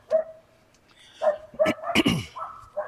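Dogs at a campground give a few short, sharp barks and yips, spaced irregularly and fairly close.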